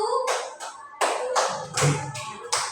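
Sharp clapping bursts from a group doing a tepuk semangat spirit-clap routine, coming in short rhythmic sets with brief gaps between them.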